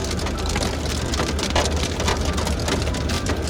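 Storm hail hammering a vehicle, a dense, loud, continuous patter and clatter of impacts on the surface with no talking.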